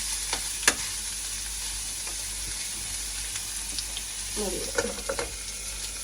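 Snake gourd sautéing in hot oil in a pan gives a steady, close sizzle, with a few sharp clinks and spatula stirs scattered through it and no talking.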